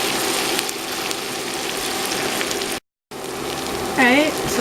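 Onions caramelizing in a skillet for a one-skillet French onion chicken sizzle with a steady, rain-like crackle throughout, broken by a brief gap, with a faint voice near the end.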